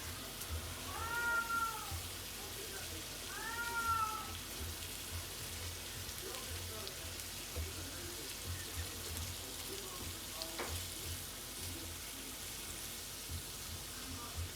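In a kitchen where a burrito is being prepared, a cat gives two drawn-out, wailing meows a few seconds apart, moderately distant over steady background hiss, then stays quiet.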